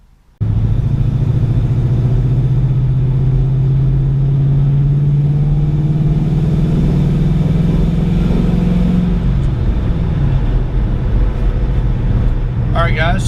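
A 2007 Ford Mustang GT out on the road with freshly changed rear differential fluid, its engine holding a steady, loud, close drone from inside the cabin, easing off in pitch near the end, with no talking.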